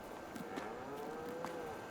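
Cows lowing in the Farming Simulator 22 game, a couple of soft, drawn-out moos heard alone at moderate distance over a faint steady background hum.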